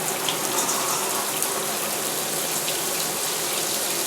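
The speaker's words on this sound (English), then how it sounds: "Over here, we'll put the shower up." Shower water pours steadily into a bathtub with a slow, clogged drain, a continuous broadband hiss and splash that holds at an even, fairly loud level throughout with no talk.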